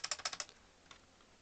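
A quick burst of about six sharp, close keystrokes on a computer keyboard, followed by one or two fainter taps in a quiet room.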